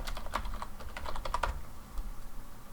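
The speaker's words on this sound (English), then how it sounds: "I'm just going to type it." Rapid, close clicking of a computer keyboard while entering Java code, a continuous patter of keystrokes with no voices.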